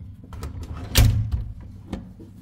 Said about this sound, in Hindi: दरवाज़ा करेंगे जी हम बंद